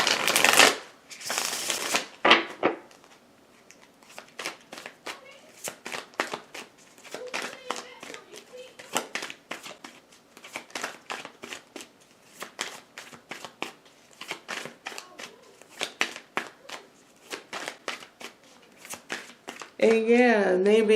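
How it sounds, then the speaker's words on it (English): Repeated crisp riffling and flicking of tarot cards, near and steady, with short bursts of shuffling throughout and a voice briefly at the end. "I'm sitting here shuffling these cards"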